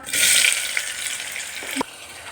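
Chopped onions frying in hot oil after cumin, a loud crackling sizzle that flares up at once and then settles into a steady hiss, close by.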